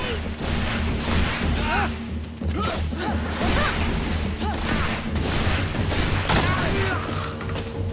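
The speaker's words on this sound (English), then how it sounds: "Grenade!" Combat in the fantasy role-playing game Greedfall, with a grenade blast amid loud, continuous battle noise: dense crashes, whooshes and booms layered under voices throughout.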